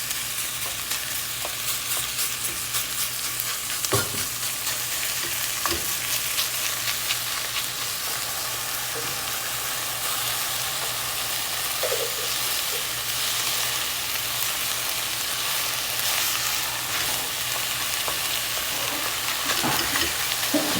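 Ground meat sizzling and frying in a pan for chili while a utensil breaks it apart, a steady close hiss with occasional scraping knocks.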